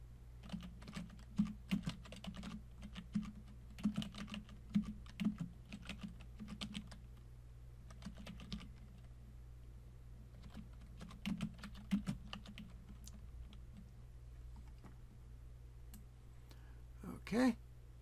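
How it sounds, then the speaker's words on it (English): Quick bursts of typing on a computer keyboard, clicking keys coming in irregular runs with short pauses, close and fairly quiet, over a low steady hum. "we got that typed in"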